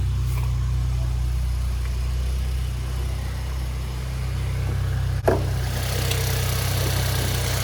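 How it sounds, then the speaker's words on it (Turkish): A Hyundai Bayon's 1.0 turbo three-cylinder engine idling steadily after start-up, a low constant hum with a brief knock near the end, close by and alone. "3 silindirli motorumuzu çalıştırdık."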